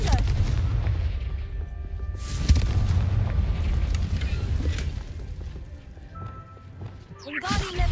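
Confringo fire spells burst in Hogwarts Legacy, with several heavy booming explosions and rumbling blasts in game combat, over a steady low background and a voice calling the spell.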